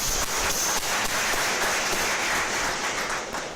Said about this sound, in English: a big round of applause for yourselves